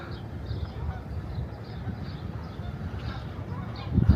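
Seagulls give repeated honking, barking calls along the Newport, Oregon coast, over a steady outdoor rumble, ending in a louder low burst as they fly over.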